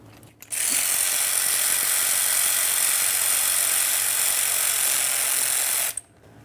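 A ratchet tool spins out the 3/8 Allen head brake caliper slider bolts on a 1994-2001 Dodge Ram 1500 front hub: a loud, continuous mechanical whirring buzz lasting about five seconds, starting and stopping abruptly.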